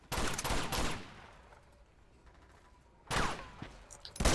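Gunfire in the video game Uncharted 2: Among Thieves comes in loud rapid bursts: a sustained volley at the start, a quieter lull with faint distant shots, then another heavy burst and a final sharp blast.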